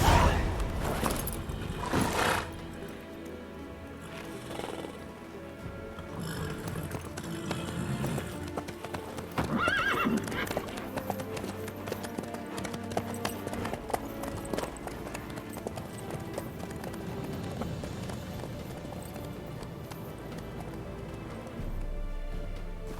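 Horse hooves gallop in The Witcher 3 game, a steady rapid clip-clop running throughout at moderate loudness beneath a dense bed of game sound and music.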